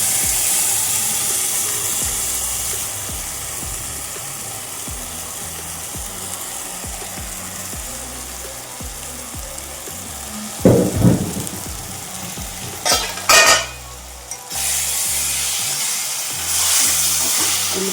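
Chicken frying with red chillies and softened onions makes a steady, loud sizzle and crackle throughout, broken by a few brief clatters of a utensil against the pan.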